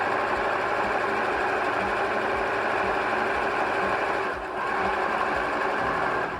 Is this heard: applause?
no